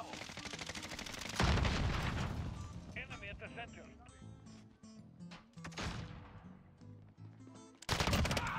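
FiNN LMG light machine gun fire in Modern Warfare, a zero-recoil class build, with loud bursts of rapid automatic shots, a heavy volley at the start and another at the end, and quieter game sounds and music between.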